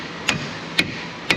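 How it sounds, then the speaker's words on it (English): Three sharp metal hammer blows strike tie rods on a damaged Ford Ranger XLT 3.0 4x4, spaced evenly about half a second apart, close and clear, with no talking. "usually I don't have to hammer in tie rods, but this is a special circumstance here"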